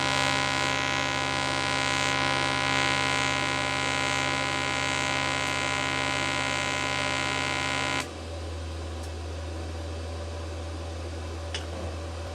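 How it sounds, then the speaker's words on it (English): A Vector Tokyo 2300 200-amp TIG welder arc-welding in pulse mode without filler wire gives off a steady electrical buzz and hiss. It drops to a quieter, lower hum partway through and continues alone with no talk. "We are testing TIG in pulse mode. In pulse mode we test without adding wire, only remelting works."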